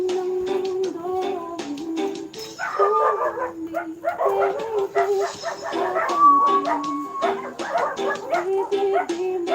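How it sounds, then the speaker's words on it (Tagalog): Several dogs yip and bark repeatedly nearby in the Philippines, with whining, howl-like tones mixed into the busy, overlapping chorus. "Dami aso dito."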